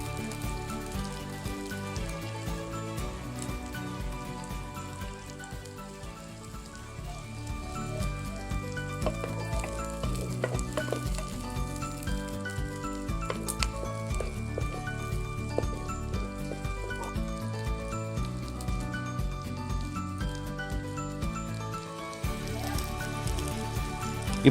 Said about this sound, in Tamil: இது நல்லா வதங்குற அளவுக்கு நம்ம கிண்டி விட்டுக்கலாம்.